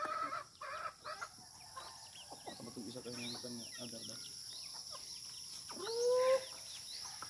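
Chickens clucking on a family poultry farm, a mix of short clucks and calls near and far, with a person talking over them and a louder rising call near the end.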